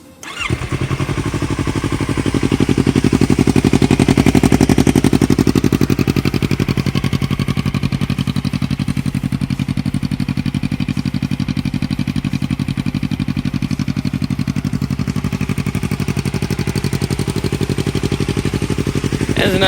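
Yamaha R3 motorcycle fitted with an Akrapovic exhaust starts and settles into a steady, deep idle around 1500 rpm, loud and close, running alone for the full stretch.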